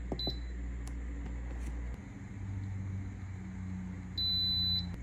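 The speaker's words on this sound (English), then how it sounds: "Cover and set the timer for 20 minutes." A kitchen timer on a covered pot is set for twenty minutes, giving a few short high electronic beeps, the last one held longer, over quiet room hum.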